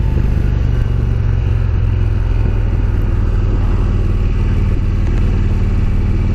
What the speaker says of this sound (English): I think I'll open the face shield up and let some of this engine racket come in here.